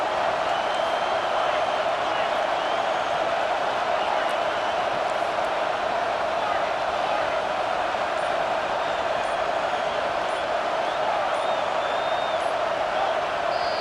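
A college football stadium crowd roars during a top-ten matchup against Oregon, a dense, constant wall of cheering that holds steady throughout without breaks.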